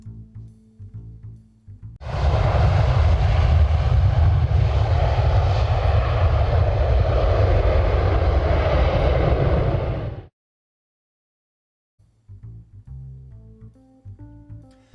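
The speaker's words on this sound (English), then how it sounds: "what do you say we hop in the jet? It'll make it much faster." A jet airplane engine roars in flight, a loud broad steady rush lasting about eight seconds that cuts off abruptly, framed by quieter musical background before and after.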